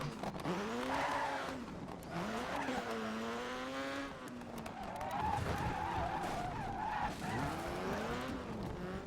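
A rally car in the DiRT 3 racing game skids and squeals its tires almost without pause over a steady engine drone, loud and close.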